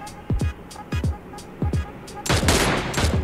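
PUBG Mobile Lite gunfire: several sharp, separate shots in short pairs, then a denser, louder burst of rapid fire near the end, heard with no talking.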